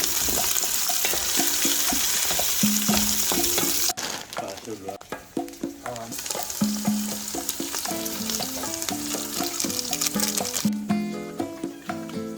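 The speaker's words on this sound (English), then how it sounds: "just browning off the onion" Onion browns in a pan for a chicken stir fry, a continuous loud crackling sizzle with repeated clatters and scrapes of stirring throughout, and faint running water or background noise at moments.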